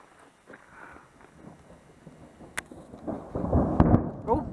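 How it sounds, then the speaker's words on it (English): Thunder rolls during a heavy storm with funnel clouds forming: faint rumbling that swells toward the end into a louder, echoing boom outdoors. "Come on, thunder."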